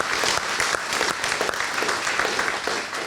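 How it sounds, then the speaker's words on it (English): An audience gives a round of applause for Justina, the chef who fed a gathering on Indigenous legal traditions for two days, with steady, dense clapping that fills the room for a few seconds. "So just another round of applause for Justina and all of her hard work"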